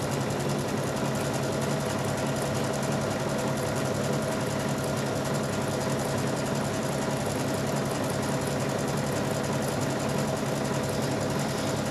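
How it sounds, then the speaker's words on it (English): A sewing machine stitches steadily with a winged needle, a dense continuous whirring buzz that holds an even level without pauses. "I'll do an inch or so, and then I'll do that little flower or star stitch"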